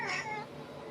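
A grumpy pet cat gives a short, close meow that trails off into a low, grumbling whine indoors.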